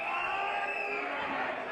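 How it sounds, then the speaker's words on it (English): A wrestling arena crowd roars and cheers in a steady, loud wall of noise, with no break across the short stretch. "This crowd is becoming unglued."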